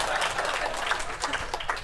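An audience in a San Francisco comedy club applauds in a dense, steady burst of clapping that fills the short moment, close and moderately loud.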